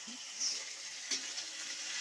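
Drumstick leaves frying in a pan give a steady, soft, close sizzle, with a couple of brief stirring scrapes partway through.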